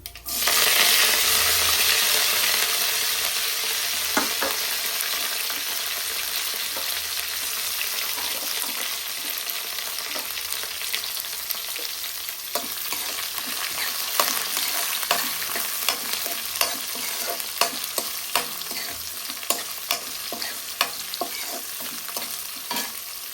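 Onions, green chilies and curry leaves fry in oil for upma, a dense steady sizzle with frequent sharp pops and stirring clinks throughout, close and without talk.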